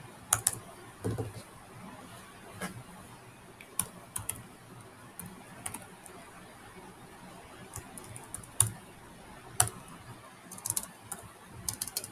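Someone types on a computer keyboard into a notepad, the keys clicking in quick irregular bursts with short pauses, fairly close but quiet.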